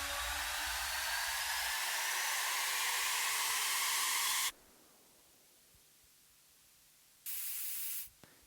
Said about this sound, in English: This white noise, I tend to do quite a lot.